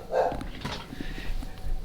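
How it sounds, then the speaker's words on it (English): A dog lets out a short, close bark followed by a few softer yips and whimpers over a brief moment, fairly loud and alone. "I'm less stressed about my dogs barking right now"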